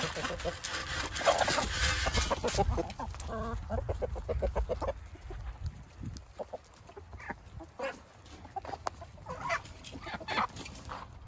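Several chickens cluck and cackle nearby in short, irregular bursts, with footsteps and rustling mixed in throughout.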